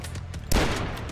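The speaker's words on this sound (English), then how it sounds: "Let's bring out the good old hunting rifle." A single sharp hunting rifle shot in the retro shooter Dusk rings out mid-clip over a low rumbling backdrop and faint rhythmic thuds, loud and close with a brief decaying tail.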